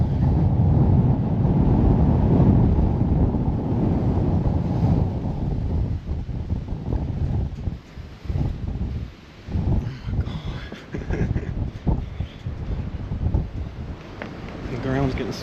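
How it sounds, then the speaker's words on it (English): Strong wind buffets the microphone outdoors at Ash Cave, a loud, roaring rumble that is heaviest at first and then gusts unevenly, with a person talking over it. "the wind's blowing like crazy. The wind picked up as soon as I got here."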